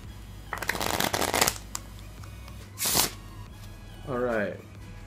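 Red October Saturn playing cards riffle in a clear shuffle, a crisp flutter of cards followed by a sharp bridge snap, with a voice speaking briefly near the end.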